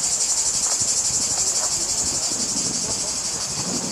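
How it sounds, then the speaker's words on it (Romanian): Cicadas at Olympia, Greece, keep up a dense, steady, high-pitched buzzing drone with a pulsing rhythm, filling the air without pause and with no voices over it. "zgomotul e produs de niște insecte numite cicade."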